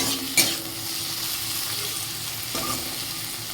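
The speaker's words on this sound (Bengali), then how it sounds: "এই ভেন্ডি ভাজাটা হচ্ছে।" Okra fries in a hot pan with a steady close sizzle, broken by two sharp stirring scrapes, one early and one near the end.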